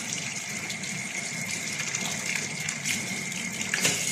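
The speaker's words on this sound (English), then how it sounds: "let us look for hot water from this side of the sink" Hot water runs steadily from a kitchen sink tap, a continuous close gushing stream with no talk over it.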